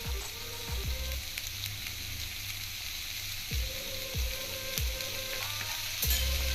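Sweet corn vegetable fried rice sizzles steadily in a hot pan, with a continuous bright frying hiss broken by regular scraping and stirring knocks from a spatula.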